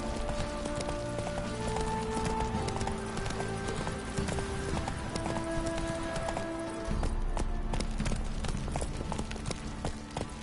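Roach the horse galloping in The Witcher 3, with rapid, continuous hoofbeats in a steady rolling rhythm that stays loud and close throughout.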